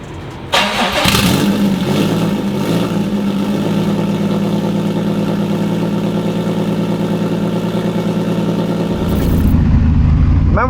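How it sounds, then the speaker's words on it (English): A 2007 Subaru WRX STI engine cranks and catches, then settles into a loud, steady idle that continues up close. "let's get Bertha started up here"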